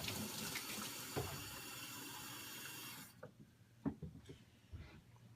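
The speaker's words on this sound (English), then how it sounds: "I'm going to top her off with some water." Tap water running into a baby's milk bottle to top it off, a steady soft rush that cuts off partway, followed by a few faint clinks and handling sounds.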